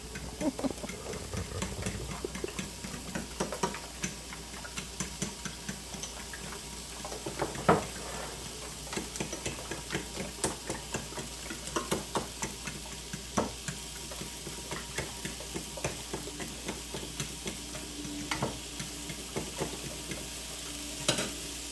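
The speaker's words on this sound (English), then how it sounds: "I think it's soothing to beat eggs like that by hand" Eggs are beaten by hand with a whisk in a home kitchen, a fast, continuous clatter of metal wires against a bowl, steady and fairly close with small irregular knocks, no talking.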